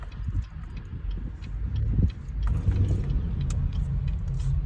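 A car in motion during a driving lesson, its low engine and road rumble steady and close throughout, with faint ticking and knocking from inside the cabin.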